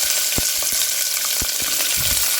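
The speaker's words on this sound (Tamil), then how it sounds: "நம்ம பூண்டு வெங்காயம் எல்லாம் சேர்த்து வதக்கிக்கலாம்" Garlic and onion sautéing in hot oil for bitter gourd curry, a loud, steady close sizzle broken by a few sharp stirring knocks, with no voices.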